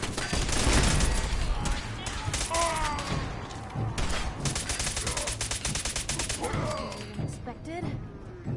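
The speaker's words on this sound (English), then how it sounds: "What the fuck is he shooting me with?" Gunfire aimed at the player in a modded Fallout 4 rattles out in loud, rapid bursts with heavy thumps and crashes, while a voice talks over it.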